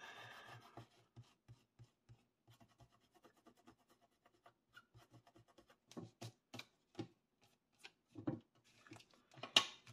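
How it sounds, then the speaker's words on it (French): Glue traces being rubbed off a paper baby album, quiet rhythmic scratching strokes that grow into louder, irregular rubs and scrapes toward the end. "On efface les traces de colle."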